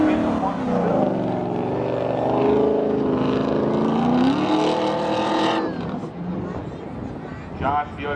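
Drag race cars, a 1994 Camaro Z28 and a 1998 Camaro, race at a spectator drag event, their engines roaring loud and steady with a rising pitch. An announcer talks over the noise throughout.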